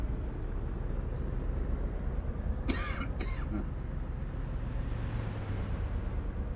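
A man coughs twice in quick succession, close to the microphone, over a steady low engine drone from a truck driving simulation.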